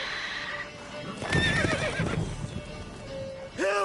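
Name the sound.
horse Roach neighing in video game The Witcher 3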